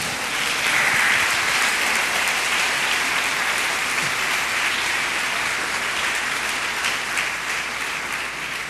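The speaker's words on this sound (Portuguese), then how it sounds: "Você pode aplaudir o Senhor?" A church congregation breaks into applause, thick and continuous clapping filling the room at a steady level, fading only slightly toward the end, with no voices breaking through.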